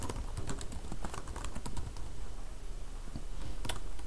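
Rapid, uneven keystrokes on a computer keyboard while a Redis command is typed, a close, steady patter of clicks with a few sharper taps, no voices.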